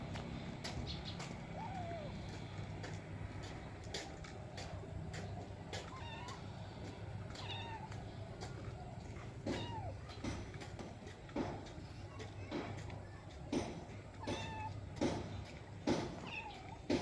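A cat meows faintly several times, with short, quiet calls scattered over a steady outdoor background and occasional clicks.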